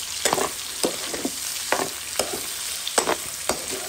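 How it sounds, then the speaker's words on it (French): Onions frying and being stirred in a pan: a steady sizzle broken by repeated scraping strokes of a spoon, close and clear, with no talking. "Je mets les oignons, je mélange."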